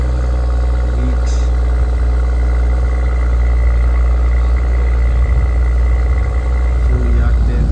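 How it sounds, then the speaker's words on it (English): A BMW 540i engine idles after a cold start with a deep, steady rumble close by, a brief rev lifting near the end; faint voices occasionally underneath. "Let me give you guys a cold start right now."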